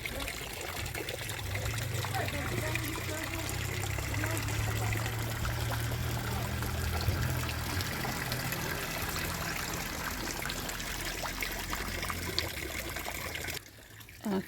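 Water trickles steadily from a town fountain in Tiradentes, a continuous splashing wash that runs throughout, with faint voices underneath.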